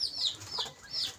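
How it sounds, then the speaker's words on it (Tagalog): Native village chickens raised for slaughter clucking nearby, a few short, high, bending calls in quick succession over quiet outdoor background. "Yung mga manok ni Mamay na pang katay-katay"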